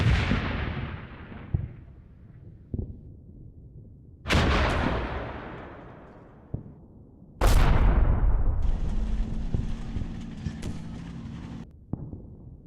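Artillery fire in the Combat Mission war game: three loud booming impacts each trail into a long rumbling decay, with smaller thuds between them and a droning tone under the last blast.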